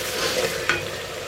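Ginger frying in a pan for Ethiopian misir alicha lentil sauce, a steady close hiss of sizzling oil with a brief sharp spatter midway, no talking.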